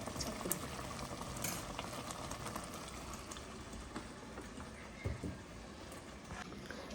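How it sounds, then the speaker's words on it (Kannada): Masala bubbling in a pot on a home kitchen stove makes a steady, dense crackling simmer throughout, fairly close, with a few faint knocks and clinks of utensils on top. "ಮಸಾಲ ಬಾಯ್ಲ್ ಆಗ್ತಾ ಇದೆ"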